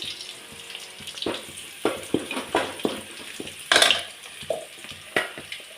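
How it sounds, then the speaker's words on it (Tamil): Gobi Manchurian sauce mixture sizzles and crackles in a frying pan, with intermittent stirring scrapes and clinks rising over a steady low fry, close and moderately loud. "இது கொஞ்சம் நல்லா ஃப்ரை ஆகட்டும்."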